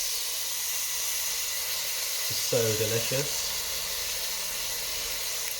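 Steady hissing sizzle of crickets frying in teriyaki sauce, close and constant, with a brief spoken remark partway through.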